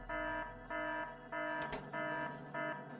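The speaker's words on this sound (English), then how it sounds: "I'll later remember to set this alarm to global, so we can hear it even if we are not close by." A speaker-block alarm from the video game Factorio sounds as a loud, synthetic multi-tone buzz. It pulses on and off in five even bursts of roughly half a second each, with no talk.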